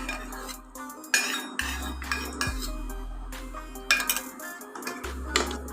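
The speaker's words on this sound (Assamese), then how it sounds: "এইখিনি একেবাৰে মই একেলেখাই লৰাই থাকিম যেতিয়ালৈকে গাখীৰখিনি সম্পূৰ্ণকৈ শুকাই নাযায়" A utensil scrapes and clinks against a pan as milk is stirred for a homemade jackfruit-seed sweet. The strokes are close and irregular, with sharper metallic knocks now and then and no voices.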